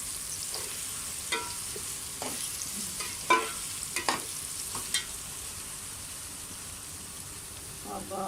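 Garlic paste fries with onions in a pan for stuffed okra, a continuous close sizzle broken by occasional scraping stirs and small clinks, with no one talking.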